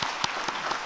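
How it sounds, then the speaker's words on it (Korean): A church congregation at a Sunday afternoon worship service claps briefly in encouragement for the worship service committee, a short burst of scattered, fairly sparse hand claps. "지금 현재 임원들 격려 박수 부탁드리겠습니다"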